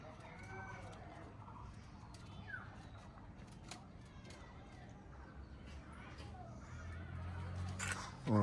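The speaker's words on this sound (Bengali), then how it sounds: "অল্প কিছু কবুতর আছে" Pigeons in a small six-foot coop, soft cooing and rustling close by, with other fowl clucking in the background and someone talking over them.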